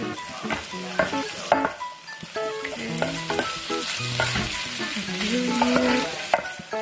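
Food frying and sizzling in a pan while being stirred and mixed for Ilonggo Valenciana, a sticky rice dish, with steady scraping and clattering of the utensil against the pan and a continuous hiss throughout.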